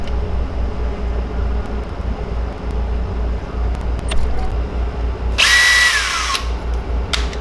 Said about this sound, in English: I get my drill ready to twist that screw eye out real quick.